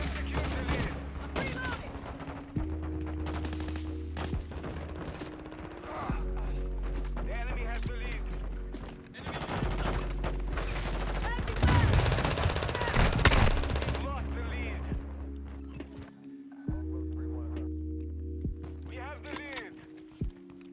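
Rapid automatic AK rifle fire in a Call of Duty match, loud repeated bursts with heavy recoil rattle over a steady game backdrop, with people talking throughout.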